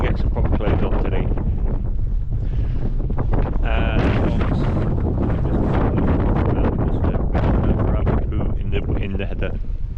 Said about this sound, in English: the wind is absolutely Baltic